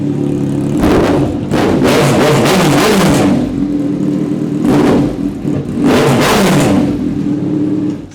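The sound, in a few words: Kawasaki 900cc inline-four motorcycle engine revving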